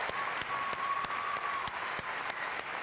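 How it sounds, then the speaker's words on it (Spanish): An audience at The Best awards ceremony applauds for Pelé with steady, moderately faint clapping that continues evenly throughout, alongside a thin tone and no clear voices. "Please put your hands together and wish Pelé a very happy birthday"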